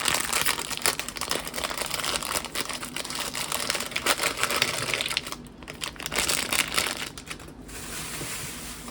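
Plastic snack bags crinkle and crunch steadily while being handled up close, a dense run of crackling rustles with a few brief pauses.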